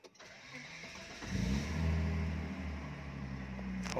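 A Volvo 960 Royal sedan is started from inside the cabin: a short starter crank catches into a steady engine idle that settles and holds, close and moderately loud.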